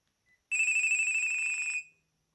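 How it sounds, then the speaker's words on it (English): A Sharp GX1 mobile phone from 2002 plays one sustained electronic ringtone beep, clean and steady for just over a second before it cuts off in silence. "Enjoy the ringtones."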